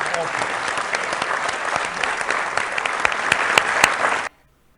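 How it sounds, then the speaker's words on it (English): Audience applause at a political event greets a Medicare for All line, a dense, steady roar of clapping that cuts off abruptly near the end. "you actually get a big applause line for Medicare for all"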